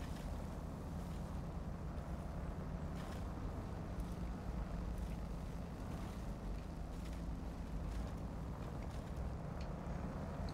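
A raised truck with a big monster engine and mud tires straining through mud in the Snowrunner video game, a steady low droning engine roar with faint irregular knocks, continuous and muffled with no talk.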